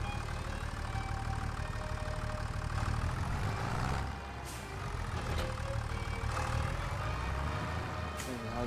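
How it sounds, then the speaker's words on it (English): A worn-out tractor engine in poor shape idles steadily with a continuous low rumble and mechanical hum, fairly close, with a brief dip midway and occasional faint clanks. "even though this tractor is not in very good shape"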